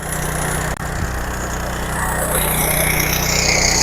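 A stubble mower machine runs with a loud, continuous mechanical drone and steady engine hum that grows slightly stronger toward the end, with a short drop near the start, no voices.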